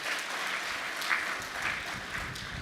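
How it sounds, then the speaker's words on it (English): An audience at a graduation lecture for an executive intelligence management course applauds the course participants, with steady, moderately loud clapping throughout and no voices on top. "Please a round of applause for them."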